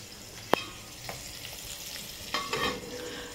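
Bitter gourd fries in a pan under a constant soft sizzle, broken by a sharp utensil click early on and a few scraping stirs toward the end.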